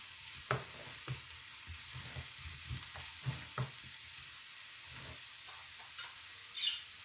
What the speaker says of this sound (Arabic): نعمل على تحمير البصل أولا